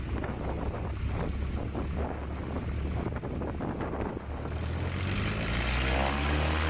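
A Chinook STOL light aircraft takes off at a short takeoff and landing competition in Jennings, Louisiana, its propeller engine droning under gusty wind noise, then swelling and rising in pitch as it climbs away.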